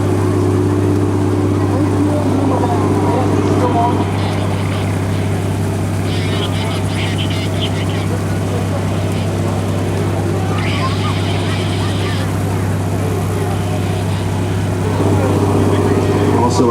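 A Hughes 500 helicopter flies a demonstration display at Rotorfest 2008, its steady engine and rotor drone running loud and continuous throughout, with a commentator talking over it.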